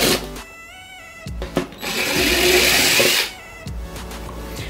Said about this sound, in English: So we remove all the screws out of there first.